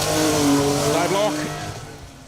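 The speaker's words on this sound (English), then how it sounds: "David Jones, Glyn Price in their E30 BMW. Always having fun, always sideways in that car." A BMW E30 rally car on a gravel stage at the Woodpecker Stages Rally, its engine revving hard and rising then falling as it slides sideways past, with a commentator talking over it.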